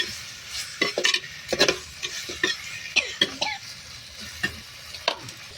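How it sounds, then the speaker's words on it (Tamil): Chicken curry (kuzhambu) sizzles in a pan as it is stirred, with spoon-against-pan scrapes and clicks in an uneven rhythm over a low frying hiss, close and fairly loud. "இப்போ நல்லா கிண்டி விட்டு வேக விடணும்."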